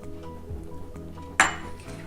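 A spoon knocks around a bowl of cream fruit chaat with soft scraping, followed by one sharp metallic clink as it strikes the rim.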